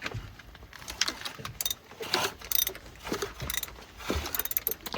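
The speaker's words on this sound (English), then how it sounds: "Okay, I'm turning the whole bloody engine." A VW TDI diesel engine turned over by hand, giving irregular mechanical clicks, ratcheting and clunks at close range, uneven and intermittent with no talking.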